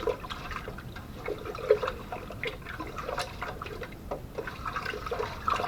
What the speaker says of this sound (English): Now we stir it. And this is going to dissolve the sugars.